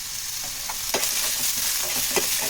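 Green chillies and a handful of coriander sautéing in a pan for an egg gravy, with a steady close sizzle and several sharp scraping stirs of a spatula against the pan.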